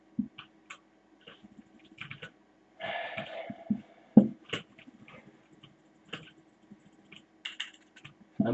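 Keyboard and mouse clicks during fast-paced gaming, sparse quick taps and bursts of typing at close range, fairly quiet, with a brief rustle in between.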